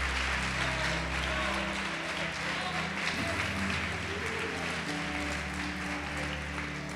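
A church congregation applauds in praise of Jesus, a dense sustained clapping wash heard behind music and a preacher's voice throughout.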